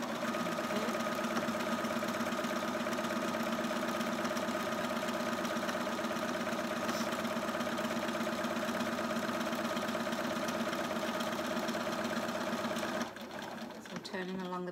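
A sewing machine stitches a peg bag in orange thread, running steadily for about thirteen seconds with a busy mechanical whir before stopping, and a voice talks over it.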